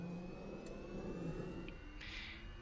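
The Zephyr auxiliary power unit of an L-39 Albatros jet trainer in the DCS flight simulator spins up as a steady, fairly quiet mechanical whir and hum that holds level throughout, with no voices.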